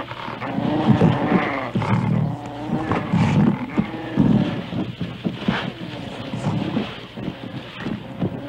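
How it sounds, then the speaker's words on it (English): Growls and snarling roars from a young leopard cub grappling with a jackal in the wild, a continuous rough, loud scuffle of layered animal vocalizations with wind noise underneath. "Young cub overpowers the jackal, but he lacks the experience to kill it."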